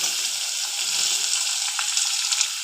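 Onions sizzle steadily in hot oil with cumin seeds and ginger-garlic paste, a dense, continuous frying hiss with faint crackles and occasional soft stirring taps close by, and no voices.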